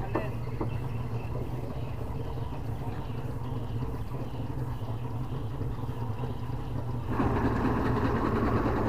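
Speedboat engine idling at Tering speedboat harbour on the Mahakam river, a steady low rumble running throughout, growing louder and rougher near the end as the boat revs for departure.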